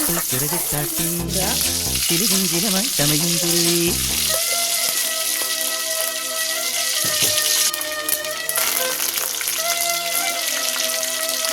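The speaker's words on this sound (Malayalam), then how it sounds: "നമ്മൾ ചീനിക്ക് ആവശ്യമായ എണ്ണ ഒഴിച്ച് കടുക് വറുത്തിടാൻ പോവുകയാണ്." Mustard seeds frying in hot oil in a pan, a loud, close, continuous sizzle with crackling pops throughout, alone without talk.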